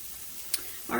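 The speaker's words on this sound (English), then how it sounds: "We're going to let these veggies sizzle up for just a minute." Vegetables sizzling in a skillet, a faint, soft frying hiss with a quick tick partway through and a louder clatter or voice entering at the very end.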